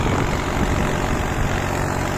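A Mahindra Yuvo 405 DI 4WD tractor with four-wheel drive pulls a heavy plough implement through soil, its engine a loud, continuous, droning roar.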